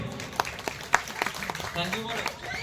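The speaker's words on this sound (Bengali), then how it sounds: "এদের জন্য একটু হাততালি সবাই মিলে" Applause for children after a game at a competition held at a Gouripur mission, heard as scattered, uneven clapping from a small crowd, with sharp individual claps mixed in under people talking.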